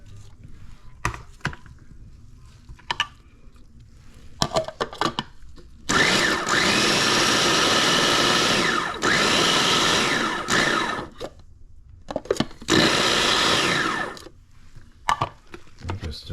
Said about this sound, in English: we're gonna put this into the food processor also, and give it a little chop here.